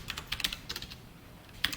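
Quiet computer keyboard typing while writing code, a handful of quick clicky keystrokes in two short bursts with a pause between.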